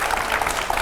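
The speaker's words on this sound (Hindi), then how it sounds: "जोरदार तालियां" A brief burst of loud crowd applause from a studio audience on a Hindi television show, dense and continuous.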